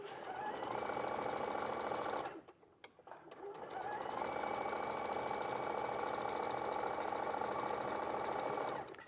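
A sewing machine stitches pin tucks in a rapid, steady mechanical whir, close and clear, stopping briefly for a second or two before running on again at an even pace.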